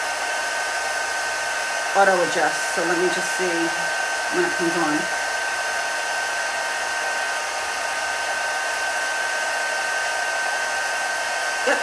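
A Celebrate It heat tool blows steadily throughout, a constant whooshing hum used to dry chalk ink on a wine bottle, with someone speaking briefly over it near the start.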